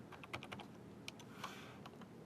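Quick, light keystrokes on a computer keyboard while entering data in accounting software, with a soft run of clicks followed by a few isolated taps, close and fairly quiet.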